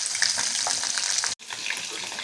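Hilsa fish fries in a pan with a steady, dense sizzle and crackle that runs almost throughout, broken by one brief dropout near the middle, close and fairly loud.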